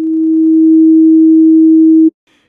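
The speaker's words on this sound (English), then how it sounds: "we get the plane sine wave regardless of the frequency of the second phasor" A pure, steady sine tone generated by a two-dimensional wavetable synthesizer in Max Jitter holds at one pitch for about two seconds, loud and clean, then cuts off abruptly into silence.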